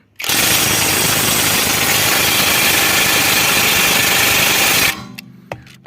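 A cordless impact wrench unscrewing on maximum power, a loud, dense rattling hammer that runs steadily for nearly five seconds and then cuts off into quiet with a faint click.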